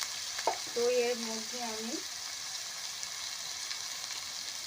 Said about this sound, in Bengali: এটাকে আমি লো থেকে মিডিয়াম ফ্লেমে একটু ভেজে নেব।